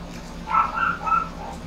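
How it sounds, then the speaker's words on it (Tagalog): A dog whimpers and yips in a few short rising cries, fairly close, against a low steady background hum, with no talk over it. "Ingingay ng aso."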